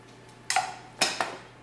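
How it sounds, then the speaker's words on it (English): A utensil scrapes and clinks against a bowl while grated ginger is mixed with salt, giving three short bursts of scraping close by in a quiet room. "We're going to give it a good mix."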